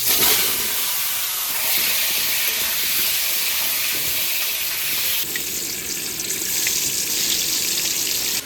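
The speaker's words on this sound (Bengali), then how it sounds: "আমি ভাজবো আলু আর দিদি ভাজবে বেগুন।" Potatoes and eggplant fry in oil in two pans, giving a loud, continuous bright hiss that fills the whole stretch, shifting slightly partway through, with no talking.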